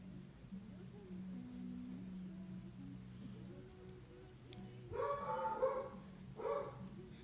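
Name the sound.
dog barking outside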